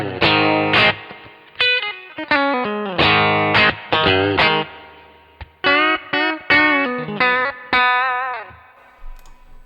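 Electric guitar playing a clean tone through a Kemper amp modeler, loud and close, with ringing single notes and chords in phrased bursts, sustained tones sliding in pitch with gentle modulation and reverb.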